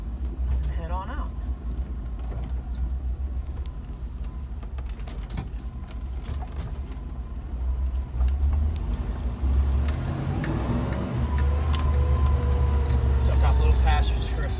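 A 1989 Land Rover Defender 90 engine idles and then pulls away in first gear, a low steady rumble that grows louder as it moves off, heard from inside with people talking.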